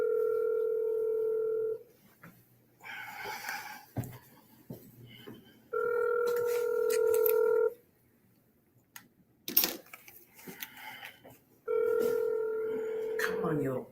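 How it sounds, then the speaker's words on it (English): A landline phone call with steady ringback tones in long repeated bursts, separated by stretches of people talking nearby, close and clear. "We're going to call him on the phone"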